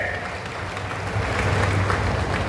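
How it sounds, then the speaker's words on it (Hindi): A large outdoor political rally crowd in Gunaur, Panna district, Madhya Pradesh, breaks into sustained applause, a dense wash of clapping that swells slightly louder toward the end. "जोरदार ताली बजा के अभिनंदन करें।"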